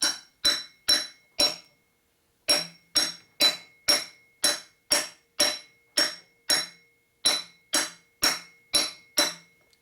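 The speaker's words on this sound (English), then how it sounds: "So just push it in the coupler, tap with the hammer a little bit." Hammer tapping a coupler onto a shaft on a 1980 Harley shovelhead motorcycle during a top-end rebuild: about eighteen sharp metallic taps, close and evenly spaced, with one short pause and no talking.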